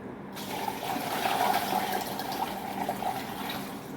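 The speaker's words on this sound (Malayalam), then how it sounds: "അത് ബക്കറ്റിൽ വെള്ളം വെച്ചിട്ടുണ്ട്. അപ്പോൾ വെള്ളം ഒഴിക്കണം." Water pouring and splashing steadily from a bucket into a container for a few seconds, close by, with no one speaking.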